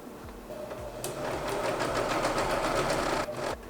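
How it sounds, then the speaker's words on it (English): A sewing machine whirs steadily while altering thrifted clothes, its needle stitching in a fast, even rhythm up close, starting after a few soft clicks and stopping briefly near the end. "It's so nice to work with a real sewing machine again."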